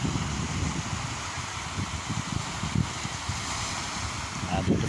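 Sea waves and wind roll steadily at a quiet beach in Roxas, Palawan, with a continuous close rush of surf and blustery wind noise across the whole stretch.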